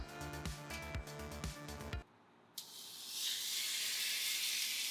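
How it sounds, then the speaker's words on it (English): After a few seconds of rhythmic clattering tones and a short pause, a steady, loud sizzling hiss starts and carries on without letup. "You wanna get that sizzling on camera?"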